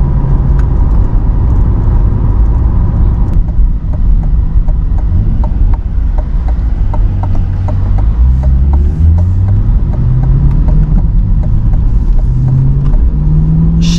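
Inside a 2020 Chevrolet Corvette C8 Z51 with an 8-speed dual-clutch gearbox, the engine roars loud and steady as revs climb, with several quick upshifts that each drop the pitch before it rises again.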